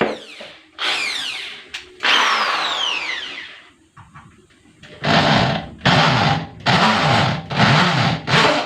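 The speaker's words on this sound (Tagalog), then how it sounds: "Magbubutas tayo." A power drill bores holes for mounting a circuit breaker for an air conditioner, with rising and falling motor whines at first, then five loud, evenly spaced bursts of drilling close by.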